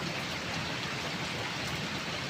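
Heavy, steady rain pouring down, a dense constant hiss of drops close by with no letup.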